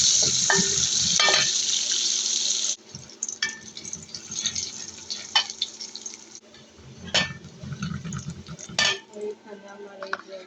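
A spice paste hits hot fish-frying oil in a cooking pot, starting as a loud hiss that then drops to a softer, uneven sizzle, broken by utensil clinks and scrapes against the pot.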